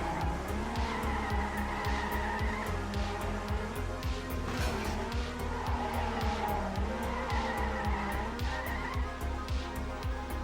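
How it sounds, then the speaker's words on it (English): Car in Trackmania drifting with a sustained tire skid, the engine droning under rising and falling squeal, loud and continuous with a rapid rhythmic ticking. "Super nice drift there."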